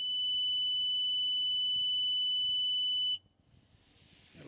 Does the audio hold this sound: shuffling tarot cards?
no